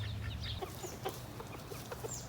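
Backyard chickens cluck softly in short scattered calls near woodland, a steady low rumble underneath and a couple of thin higher chirps drifting in the background.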